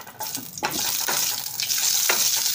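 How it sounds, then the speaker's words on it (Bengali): Dry red chili tempering in hot white oil for a Bengali dish, a loud close hiss and sizzle that erupts sharply and keeps crackling steadily, with a few spatter bursts. "প্রথমে একটা শুকনো লঙ্কা আমি ফোড়নে নিলাম"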